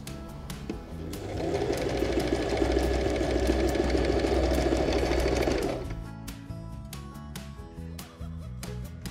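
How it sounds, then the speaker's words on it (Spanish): A sewing machine stitches a dress in zigzag, running in one steady, fast mechanical whir for several seconds before stopping, close by, followed by faint handling clicks. "Ahora vamos a hacer unos pespuntes, unos atraques en la parte donde están los alfileres para sujetarlo bien y después lo cosemos con zigzag."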